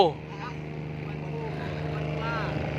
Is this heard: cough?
no